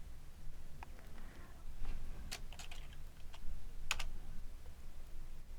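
Keys tapped on a computer keyboard while entering a function into an input field, with scattered light clicks over a steady low background hum.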